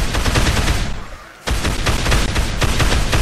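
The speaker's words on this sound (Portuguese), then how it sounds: "agora o Osama Bin Laden chegou no pedaço com a AK-47" AK-47 automatic gunfire in the zombie video game Dead Island, loud sustained bursts that stop briefly midway and then resume just as dense.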